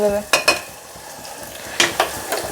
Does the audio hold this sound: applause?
no